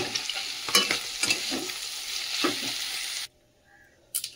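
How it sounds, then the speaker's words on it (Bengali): Brinjal stirred and fried in oil together with fried greens, a steady sizzle broken by scraping stirs and spatula knocks, then a sudden near-silence before a brief final clatter. "দিয়ে বেগুনটা দিয়ে ভালো করে মিশাবো,"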